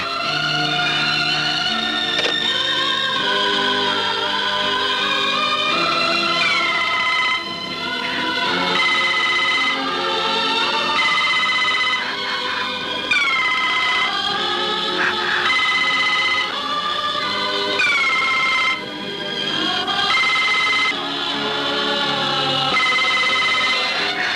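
A telephone rings in a Bangladeshi film scene, its repeated electronic ringtone trilling loudly and steadily in rhythmic bursts with brief pauses, heard alone without talk.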